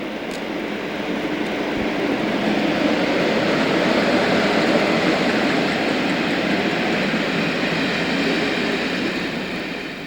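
Class 47 diesel locomotive 47711 hauls a CrossCountry train past in a broad, steady rumbling roar that swells and then slowly fades, with no voices.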